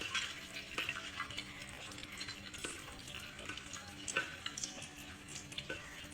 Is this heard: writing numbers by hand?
no